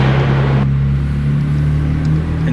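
Steady droning exhaust rumble from a BMW M3 F80 with a loud FI exhaust cruising on the road, close and constant throughout.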